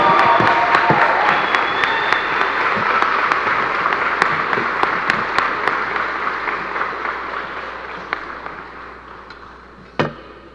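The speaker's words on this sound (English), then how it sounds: "Can you please give a round of applause to this year's John Philip Sousa Award winner, Miss Emma Craig." Audience applause at a school spring concert, a loud dense crowd clapping that fills the space and slowly fades near the end.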